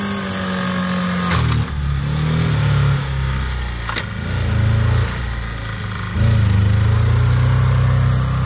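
A small engine runs loudly, its pitch rising and falling in repeated revs with brief dips between bursts, until the engine fails.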